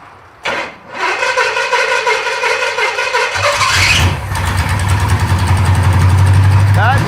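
A 1937 Pontiac engine, fed by an electric fuel pump, cranks briefly and then catches. It settles into a loud, rough, steady idle with a deep rumble, close to the listener, and no talk over it.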